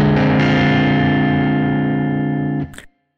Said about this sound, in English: Minor 7 flat 5 sounds like this.